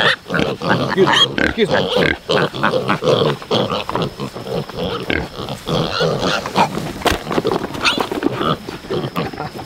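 Little pigs on a homestead grunt and squeal in a busy, close chorus of overlapping rough snorts throughout, with a brief human voice among them.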